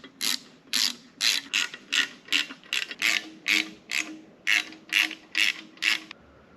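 A ratchet clicks through about fourteen quick, evenly spaced bursts while tightening bolts on a Subaru Impreza WRX STI engine. The metallic clicks are close and crisp, with no talking.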